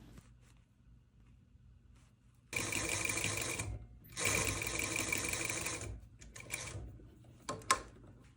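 A sewing machine stitches the hem of a pencil skirt in two fast, close bursts of rapid mechanical clatter with a short pause between, then quiet handling clicks.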